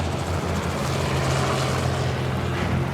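A steady, loud rotor and engine drone of a helicopter flying nearby over the savanna during a giraffe relocation fills the air continuously, with no voices.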